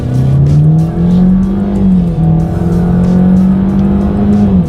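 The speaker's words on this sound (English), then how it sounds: "Let's do a quick little acceleration test here and see how quickly we can get this one here up to speed." A 2019 Ford Escape with a 1.5-liter turbocharged four-cylinder accelerates hard, its engine note rising steadily with a brief dip at a gear change, loud and continuous throughout.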